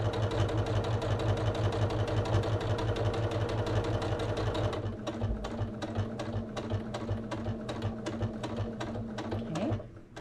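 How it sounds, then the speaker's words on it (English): A sewing machine runs a stretch of back stitching on a small gift project, a close, steady rhythmic whir that shifts to a slower, more distinctly pulsed stitch pattern halfway through before halting. "Okay, do a little back stitching."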